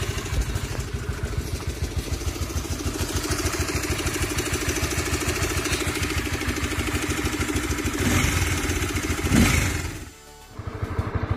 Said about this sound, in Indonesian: suara kasar yang sering dikeluhkan pengguna CB itu seperti ini ya. Ini ketika mesin masih dingin